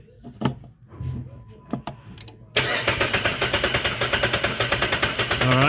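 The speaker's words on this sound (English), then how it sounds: "All right, go ahead and crank it." A 2008 Jeep with a 3.7L engine and a misfire cranks on the starter, giving a loud, even, rapid rhythmic chug after some quieter handling noises at the start.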